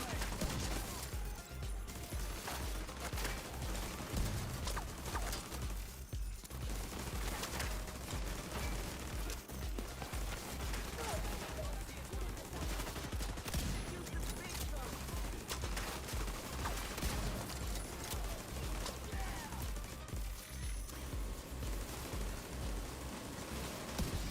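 Rapid gunfire in The Division 2, dense bursts of shots running almost without a break under steady game noise, with a voice talking over it.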